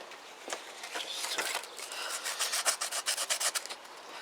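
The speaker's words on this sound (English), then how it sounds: "I wonder if we've got some light sandpaper for that" Light sandpaper is worked over the front end of a Yamaha YBR125 motorcycle, giving close, dry rasping strokes that start sparse and then speed into a quick, regular back-and-forth rhythm.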